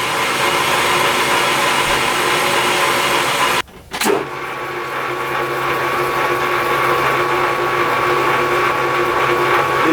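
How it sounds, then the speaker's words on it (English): A starter drill in a machining setup bores a center hole, giving a loud, steady mechanical whir. It briefly stops and restarts partway through, then runs on evenly. "It's just a starter drill that I'm going to put center hole in here so we can go through with a larger taper shank drill bit."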